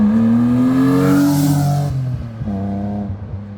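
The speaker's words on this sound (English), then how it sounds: "I want to hear this car." A 2009 Ford Mustang GT Premium engine revs steadily with a rising, droning tone, then drops briefly and picks up again; loud and close, with no talking.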